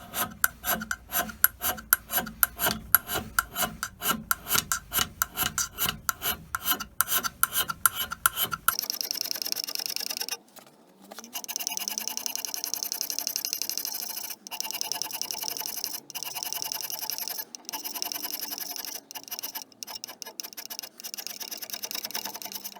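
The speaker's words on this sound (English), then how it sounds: "All I'm going to do first is just a rough scrape so that I can get a print." Rough hand scraping of a machine tool surface with a Sandvik scraper on an Elliot 14S, starting with a fast run of sharp, evenly spaced rasping strokes, then giving way to steadier, longer scraping passes with brief pauses.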